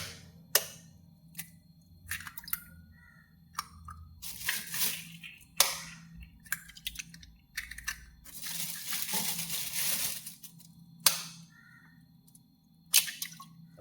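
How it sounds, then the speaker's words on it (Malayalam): Three hen eggs cracked one after another into a mixer grinder jar for a cake, sharp cracks and taps followed by liquid drips and splats, close and fairly quiet with no talking. "ആ ജാറിനെടുത്തിട്ട് അതിലേക്ക് ഒരു 3 കോഴിമുട്ട പൊട്ടിച്ച് വയ്ക്കട്ടെ."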